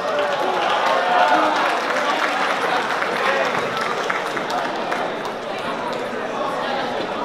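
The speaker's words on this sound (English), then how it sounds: "Let's give her a round of applause." An audience at the Miss Asia 2019 event at Binghamton University applauds, and the clapping blends with loud crowd chatter and voices. The noise is strongest early and stays dense throughout.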